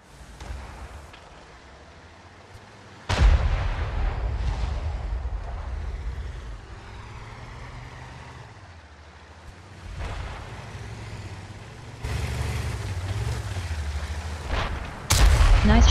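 Heavy tank cannon shots in the video game World of Tanks, fired from a Centurion AX at an E-100: several deep booming blasts spread across the stretch with rumbling engine noise and ambient battle sound between them.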